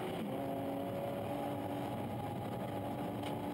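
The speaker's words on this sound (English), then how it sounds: "The Nissan 370Z sounding absolutely glorious." A Nissan 370Z race car circulates during a race at Rockingham, its engine a faint, distant, steady drone heard well in the background.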